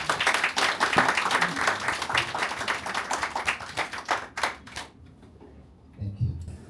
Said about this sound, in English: applause for our guests